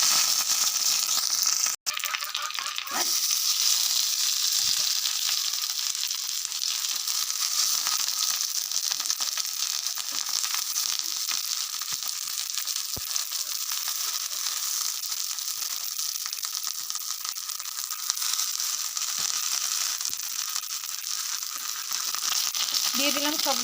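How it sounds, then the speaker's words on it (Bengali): Morola fish wrapped in bottle gourd leaves frying in hot oil in a pan, a steady, fairly loud hiss and crackle running throughout with a brief sharp knock near the start. "এখন আমি লাউ পাতায় মোড়া মোরলা মাছগুলো দিয়ে দেবো এক এক করে ভাজার জন্য।"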